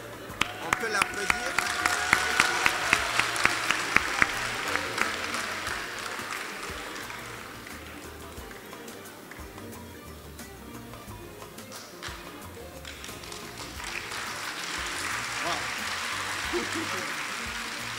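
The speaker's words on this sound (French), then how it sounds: "On peut l'applaudir." At a closing ceremony, an audience applauds a prize winner with a steady spread of clapping that swells, fades under a murmuring crowd, then rises again toward the end, with voices chattering throughout.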